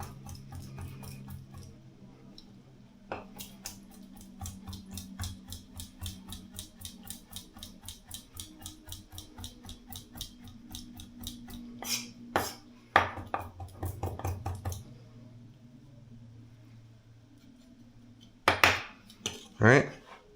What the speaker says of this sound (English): I'm going to take one of these egg whites, I guess 2 egg white halves, and just kind of chop them up.